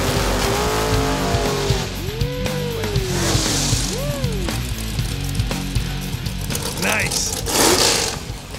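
A drag racing car makes a pass, heard as engine revving with rising and falling pitch sweeps, tire noise and mechanical whine, loud and close. Commentators talk over it throughout.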